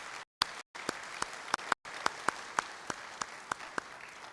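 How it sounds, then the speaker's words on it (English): Audience at a naval dialogue conference applauds the panel speakers: faint, sparse claps with a few sharp distinct hits, broken by brief dropouts. "please join me for a big round of applause for our panel speakers"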